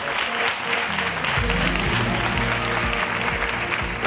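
Steady, dense applause from a large audience fills the whole stretch, loud and even without pause.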